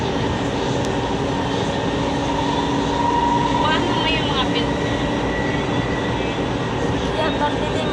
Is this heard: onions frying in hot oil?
no